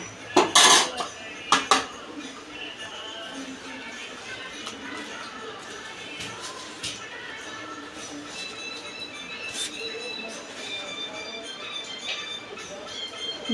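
Semolina (rava) is stirred in a pan to keep it from burning, with a few sharp metallic clinks of a spoon against the pan at the start, then a soft continuous scraping and rustle at close range.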